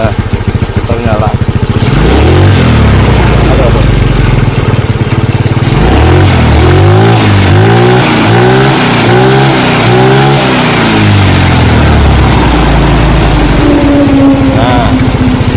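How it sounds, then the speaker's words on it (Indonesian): An old Yamaha Mio scooter is kicked over and its engine rumbles loudly at close range, revving in repeated rising and falling bursts before settling into a steady idle. "Nah ini Mio lama, kita coba nyalakan."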